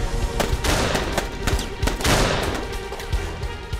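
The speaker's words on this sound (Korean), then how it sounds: "변소에서도 계속 총알이 날아와." Dramatized gunfire from an outhouse during a shootout in a yard: loud, close, rapid bursts of shots cracking in irregular clusters across the whole stretch, with no voices.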